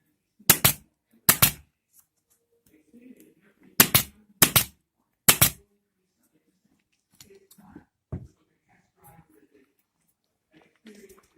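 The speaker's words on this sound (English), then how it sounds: "staple this in place." Staple gun fastening chair webbing to a wooden frame: five sharp, loud snaps in quick pairs and singles, then quieter handling clicks and rustles.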